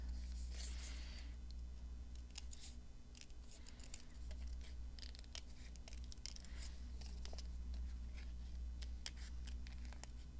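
Scissors cut out the legs of a paper bird, giving a quiet series of crisp snips and rustles over a low steady hum.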